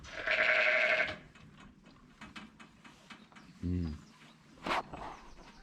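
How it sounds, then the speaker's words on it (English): A sheep bleats close by, preceded by a loud hiss, with a sharp higher call shortly after and light rustling in between. "Blooming sheep."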